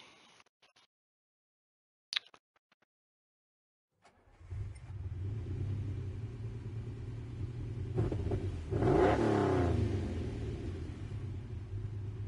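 Lamborghini Countach engine in Gran Turismo Sport, an N500-class car: after a near-silent start with a few faint clicks, a steady low rumble starts around four seconds and holds, swelling briefly into a louder rev near nine seconds.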